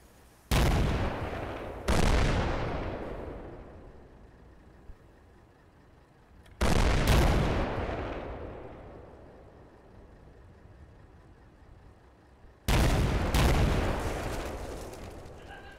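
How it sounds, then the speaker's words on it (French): Artillery shells firing and exploding in the computer war game Combat Mission Shock Force 2, three separate heavy booms each trailing into a long rumbling decay, loud and isolated with no talk. "Ah, ça faisait encore un bon paquet d'obus en vol."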